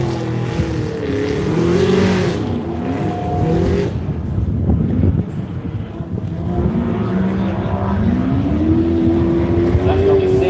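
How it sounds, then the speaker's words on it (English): A loud race car engine, car 10 at the Loveday 400 2025, roars past with rising and falling pitch and heavy wind rumble, the tone sweeping up as it accelerates and fading slightly midway. "That's got the sound and the look of car 10 of James Cook."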